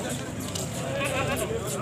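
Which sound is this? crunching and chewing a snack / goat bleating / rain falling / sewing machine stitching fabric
goat bleating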